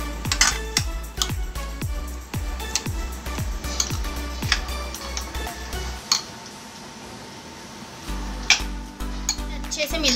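Raita ingredients with salt, black pepper and cumin powder are stirred and mixed in a bowl, giving a series of quick scraping, clinking strokes that pause briefly before resuming.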